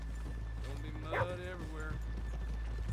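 Horses in Red Dead Redemption 2 clop and snort softly near muddy ground, with a brief whinny-like sound, faint beneath a voice talking and a low steady background hum.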